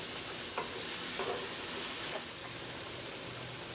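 Liquid aminos hit a hot pan of summer squash casserole ingredients, a steady close sizzle with a few stirring scrapes, no talking.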